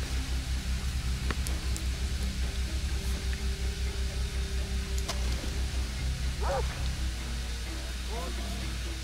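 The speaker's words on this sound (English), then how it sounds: "They got a dog, that's not good." Dog barks from the video game Far Cry 3: a few short, fairly distant yelps rise over a steady, noisy outdoor game ambience, with brief clicks scattered through.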